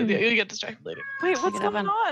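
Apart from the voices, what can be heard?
cat meowing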